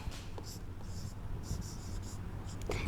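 A pen or marker scratches across a board in short rhythmic strokes during a geometry lesson, soft and close over a low background hum, with a faint voice briefly audible.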